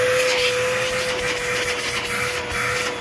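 An Aerus Lux Legacy vacuum cleaner motor runs steadily and close, a smooth, moderate whine with a faint shrill tone held constant, with no talk over it.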